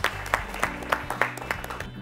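Audience at the PCRA Saksham 2018 quiz applauds a team, a modest burst of clapping with distinct individual claps at a medium distance, fairly quiet and steady.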